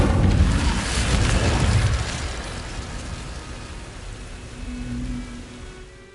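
Incendio fire spell cast in Hogwarts Legacy, a loud burst of whooshing, crackling flame at the start that fades into a lower rumbling tail; no talking.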